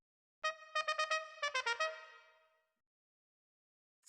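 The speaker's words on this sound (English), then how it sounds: "Marvelous. You found the trumpet." Short trumpet phrase from a music-toy program on a Macintosh computer: a quick run of bright, clipped staccato notes in two bursts, the last note ringing out and decaying, close and alone.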